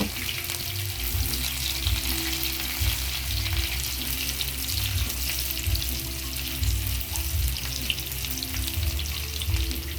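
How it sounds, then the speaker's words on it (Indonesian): Clams and bitter gourd are stir-fried in a pan, with a continuous close sizzle and crackle over a low rumbling hum, steady throughout. "Ditumis sampai harum dulu sana ya."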